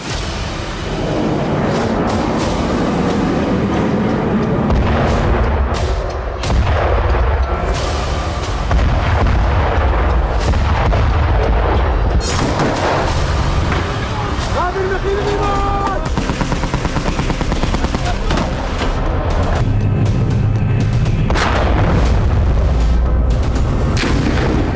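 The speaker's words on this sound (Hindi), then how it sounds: "उत्तरी गाजा इजराइल की बमबारी से दहल रहा है।" Bombardment in northern Gaza, with dense, continuous booms and cracking blasts layered over a constant loud roar, some distant and some closer, and voices faintly audible in the mix.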